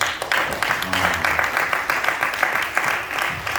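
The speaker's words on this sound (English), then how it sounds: "Clap it up for Legacy." Audience applause after a Mahalia Jackson story movie screening: steady, dense clapping filling the whole stretch, with a few faint voices mixed in.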